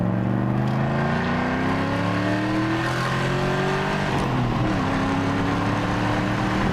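An Audi V8 Quattro engine revs hard and accelerates, its rising harmonic whine climbing steadily before a brief shift and another climb, loud and close with no voices.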